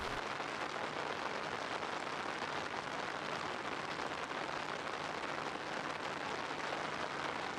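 Steady rain falls on a cold, wet, gloomy day, a dense, even hiss of drops on surfaces that continues unbroken throughout.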